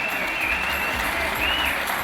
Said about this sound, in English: give these two first-timers a cracking round of applause